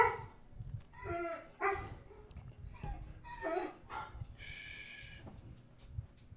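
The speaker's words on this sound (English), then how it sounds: "the puppies are not happy with the delivery person" Puppies bark and yip at a delivery person, sharp close bursts with a few higher whimpering yelps, coming in uneven clusters over several seconds.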